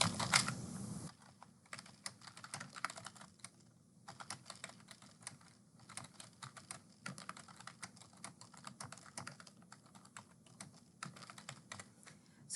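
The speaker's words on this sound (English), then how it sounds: "you'll follow along typing the information that I have." Steady typing on a computer keyboard while text is entered in Word, with quick, close, light key clicks in irregular bursts and short pauses, heard alone at low volume.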